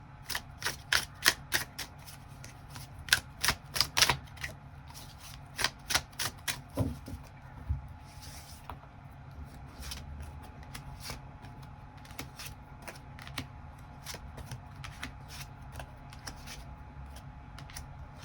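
Tarot cards being shuffled and drawn, sharp riffling clicks in quick bursts over the first seven seconds, then sparser single snaps of cards laid down, close and moderately loud with no talking.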